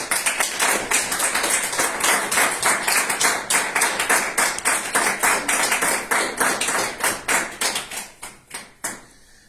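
A church congregation claps for several seconds in a dense, fast, near-rhythmic patter that thins into a few scattered final claps before falling silent.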